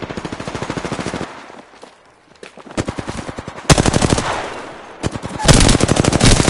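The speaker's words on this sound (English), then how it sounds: "I'm taking shots." Automatic weapon fire in the Apex video game, rapid rhythmic bursts of machine gun shots, loud and close, with brief pauses between strings of fire.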